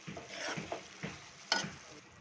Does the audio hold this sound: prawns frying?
yes